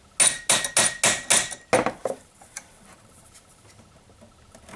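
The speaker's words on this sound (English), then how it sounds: "And sometimes it's stiff, so take a hammer," A hammer strikes a part on a Jeep Grand Cherokee 3.7 engine in a quick series of about seven sharp, close metallic taps, followed by a few fainter knocks and quiet handling noise.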